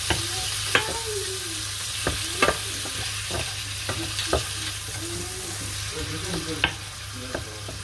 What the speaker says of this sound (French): on laisse griller comme ça les crevettes